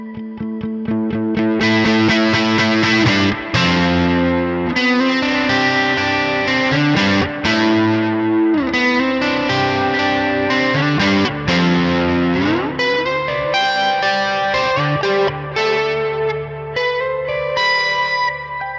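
An electric guitar through a Nano Cortex digital amp modeler, with a processed, effected tone, playing sustained chords and melodic lines with distortion, chorus and echo, loud and continuous.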